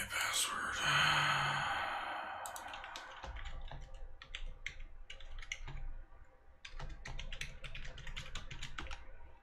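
A password is typed on a computer keyboard in rapid, uneven runs of close clicking keystrokes, with an audible sigh and breathy exhale near the start.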